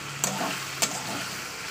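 Carrots frying in a pan while being stirred, a steady close sizzle with two sharp scrape or clack sounds from the utensil.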